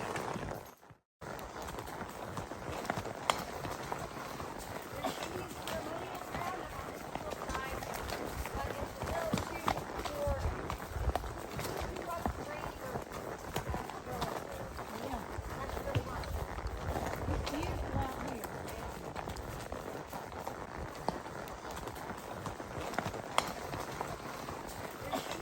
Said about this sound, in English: And this is my horse, Tornado.